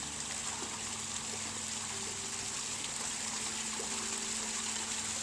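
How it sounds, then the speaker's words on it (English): A backyard patio waterfall sends a steady, soft splash and trickle of water over rocks, a faint continuous wash with a low pump-like hum beneath it. "Here is our waterfall."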